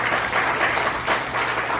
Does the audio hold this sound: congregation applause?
yes